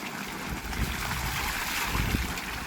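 Steady rushing water from a solar-powered pump on a farm, with a broad, constant wash of noise, wind buffeting the microphone at times, no voices present.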